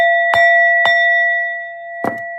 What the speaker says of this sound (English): I'm going to ring the bell for y'all one more time